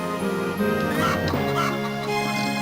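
Poultry in the Wild Arms video game gives loud, honking, squawking calls in quick bursts over a steady background of game music, with no voices.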